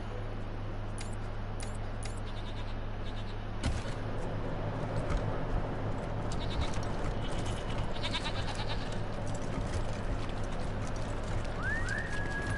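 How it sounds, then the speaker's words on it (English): Goats bleat intermittently in the video game Wasteland 3 over a steady background hum, with occasional clip-clop sounds and a brief high tone near the end. "I hear goats, but I don't see them."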